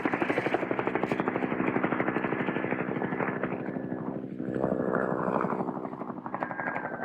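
Cobra attack helicopters fly protective patterns over a landing zone, their rotor chop a loud, continuous pulsing throb that swells and eases as they pass, with no voices over it.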